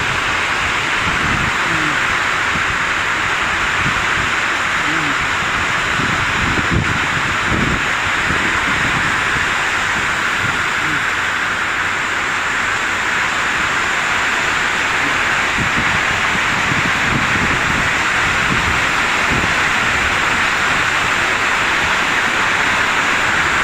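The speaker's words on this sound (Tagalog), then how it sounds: "lakas ng ulan, tumila ka na" Heavy rain pours steadily and loudly at a fabrication work site, a dense continuous hiss with rumbling low gusts throughout, close and unbroken, with no voices.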